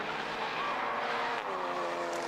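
A Lotus Exige race car circuit-racing at Snetterton, its engine a steady, loud drone with shifting harmonics as it passes, no talking.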